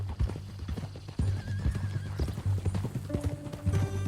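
Horse hooves clip-clop at a steady walking rhythm in Red Dead Redemption 2, close and clear, with a brief whinny and scattered game ambience on top.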